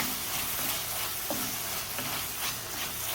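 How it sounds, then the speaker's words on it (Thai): Tomatoes stir-fried in a pan for a Thai spinach curry, giving a steady broadband sizzle with soft scraping stirs throughout, close and moderately loud, no voices. "มะเขือเทศเหมือนเดิมผัดให้สุก สุกนุ่มเละ"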